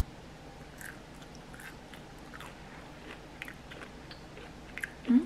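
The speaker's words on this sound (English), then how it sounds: "It definitely has a crunch." Someone bites and chews crispy carrot bacon, producing faint, scattered crunching clicks that grow slightly louder at the end.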